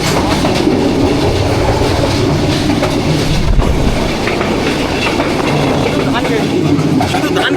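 Burimari Express train running between stations, with a loud, continuous rolling rumble and rhythmic clickety-clack of the wheels from inside the carriage, while someone talks over it.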